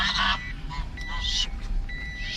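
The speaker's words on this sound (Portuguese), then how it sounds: "os gansos gritam mais do que o carro elétrico" Geese honk loudly in several harsh, nasal bursts, close by and repeated at irregular intervals over a low rumble of background noise.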